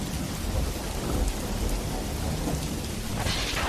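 Heavy rain pours steadily with rumbling thunder rolling beneath it, a dense, loud storm ambience with no voices, used as a horror story sound effect.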